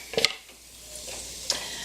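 Mushrooms and patties fry in a little butter across several pans, a steady close sizzle broken by a couple of sharp clinks of a utensil against the pans.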